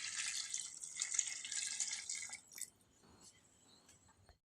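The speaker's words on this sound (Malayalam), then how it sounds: "കുറച്ച് വെള്ളം കൂടെ ഒഴിച്ചു കൊടുക്കുക" Water splashes and trickles into a cooking pot holding leftover ghee rice cooked in milk, a bright pouring rush that stops partway, followed by a few faint drips and clinks.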